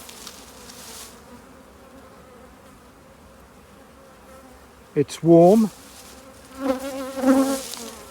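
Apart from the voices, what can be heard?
honeybees buzzing around hives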